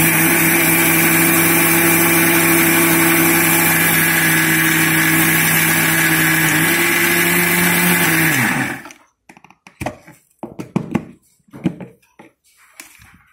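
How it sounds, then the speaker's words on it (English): A mixer grinder runs loud and steady, pulverising dry fruits into a fine powder for immunity-boosting laddu, its motor whine holding for about nine seconds before cutting off abruptly, followed by a few faint knocks and rattles. "So we'll one more time we will grind it."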